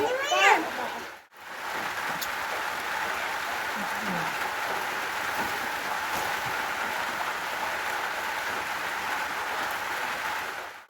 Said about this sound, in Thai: ฝนตกทุกคนเอ้ย